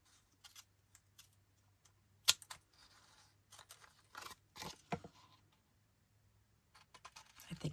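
Scissors snip and trim multicolored paper strips for a handmade card background, giving soft, irregular cuts and rustles up close, with quiet pauses between them.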